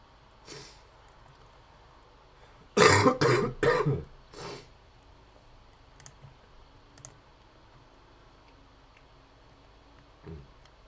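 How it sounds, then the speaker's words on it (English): A burst of several quick, harsh coughs close up, followed by a lone cough and a few faint clicks in an otherwise quiet room. "Sorry about all the coughing."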